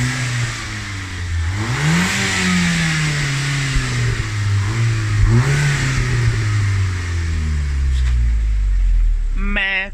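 A Volkswagen Golf Mk5 GTI with its stock exhaust idles with a steady low drone and is revved twice, each rev swelling and falling away, heard close and loud.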